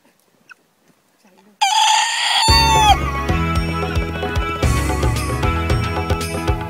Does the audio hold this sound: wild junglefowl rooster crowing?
yes